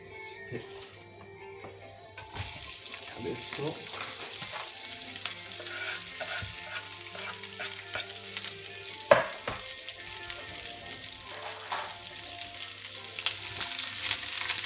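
Meat miso cabbage with minced meat and green onion fries in a new T-fal frying pan, hissing and sizzling steadily after a quiet start, with occasional stirring clatters and pops.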